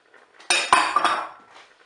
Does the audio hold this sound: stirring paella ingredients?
yes